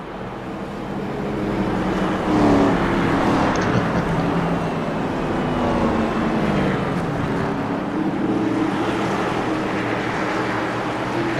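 Race car engines in a racing video game at a fairgrounds track, a steady dense engine drone with passing swells that blend several cars into one continuous roar, no talking.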